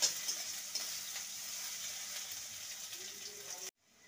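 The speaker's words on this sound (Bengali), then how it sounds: "পেঁয়াজটাকে হালকা ভেজে নেব" Chopped onion fries lightly in a pan for a cooking dish of drumstick leaves, giving a soft, steady close-up sizzle with occasional stirring scrapes, cutting off abruptly near the end.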